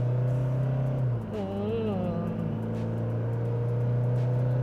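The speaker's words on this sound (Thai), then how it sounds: "อัตราเร่งของเจ้าคันนี้นะครับ ต้องบอกว่าเราเนี่ย ขับอยู่ในโหมด power นะครับ" A Toyota Fortuner Leader S accelerating in power mode, its engine a steady loud drone with a brief dip and rising pitch as it revs up and pulls through a gear change.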